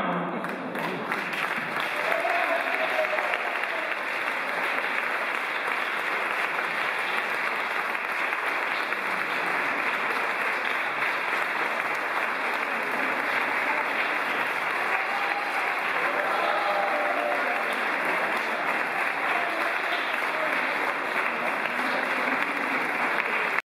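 Long, steady audience applause inside Sant Pere church in Terrassa after a performance, dense even clapping filling the space for over twenty seconds with faint voices underneath.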